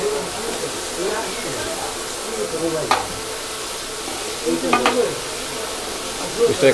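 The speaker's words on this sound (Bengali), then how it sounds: "চিকেন ভাজা হচ্ছে" Chicken deep frying in hot oil at a small fried-chicken stall in Old Dhaka: loud, continuous bubbling sizzle with occasional sharper crackles and stirring clatter, while people talk nearby.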